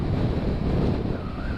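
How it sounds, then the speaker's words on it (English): Steady, loud wind roar buffets the microphone of a Honda CB500F motorcycle riding on a road in France, a dense low rumble running unbroken from start to finish with no voices. "It's a bit windy."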